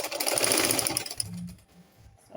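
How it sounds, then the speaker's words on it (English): A sewing machine back stitches a seam on skin illusion net, a fast rattling whir for about a second, then brief softer stitching bursts and a short pause before the motor starts again. "So I quickly now back stitch."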